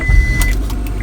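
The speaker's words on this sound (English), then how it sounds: "We're going to start the car now" Car engine turning over and catching at startup on a vehicle with an A/C compressor clutch fault, a loud close low rumble with brief clicks and a thin whine, lasting about a second.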